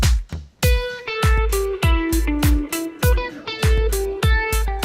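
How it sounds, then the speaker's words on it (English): Plugin phaser effect on a mixed music track, with plucked tonal notes and regular percussive hits in a steady rhythm, loud and close with no talking. "a phaser is going to sound like the sound going past your ear"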